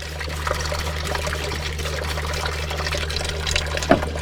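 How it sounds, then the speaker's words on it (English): Soapy water pours and trickles steadily over a low background hum while a lotion disc is rinsed during dyeing, with a brief louder splash near the end. "go ahead and let the water go down in there"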